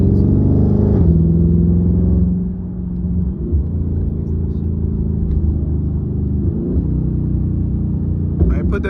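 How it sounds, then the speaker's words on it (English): Dodge Charger Scat Pack V8 engine rumbling steadily while driving, a deep continuous low drone with a brief shift in tone partway through; people talk over it inside the car. "It's my first time driving a Charger."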